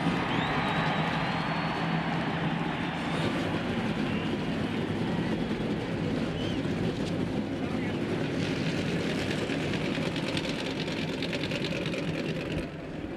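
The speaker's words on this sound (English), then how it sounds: "Gentlemen, start your engines." A field of NASCAR stock car engines fires up at the 2001 Harrah's 500 in Texas, a loud, sustained, buzzing roar that stays dense for the whole stretch, with faint voices mixed in underneath.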